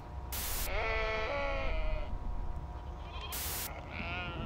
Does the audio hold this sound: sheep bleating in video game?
yes